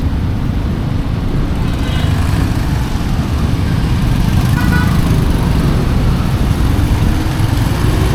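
Steady, loud road traffic on a highway in Pagadian City, with a continuous roar of passing cars and engines and a short horn toot partway through, with no talk.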